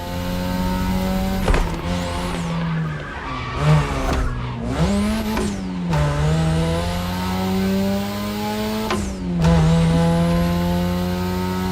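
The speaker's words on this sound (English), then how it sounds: "The key to toge is being able to balance the brake and gas pedal at every turn." A car in the racing game The Crew Motorfest takes a touge mountain run. The engine rises and falls in pitch through the turns, with dips under braking and brief tire squeals. The game audio is loud and close, with no voices.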